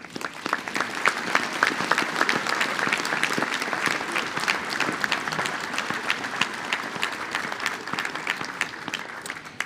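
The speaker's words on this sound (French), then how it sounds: "de les applaudir." Audience applause at a mayor's New Year wishes ceremony in 2026: a full hall claps steadily for about ten seconds, dense and even with scattered sharper claps and no break.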